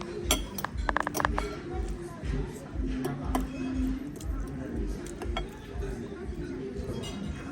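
Glasses clink together in a toast during a meal in Switzerland, a few short bright chinks near the start over steady background chatter and room noise.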